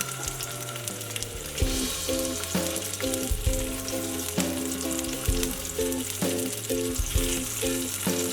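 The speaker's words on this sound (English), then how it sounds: "Listen to that sear." Shrimp sear in olive oil in a hot pan, a loud, continuous close-up sizzle and crackle holding steady throughout, with background music playing.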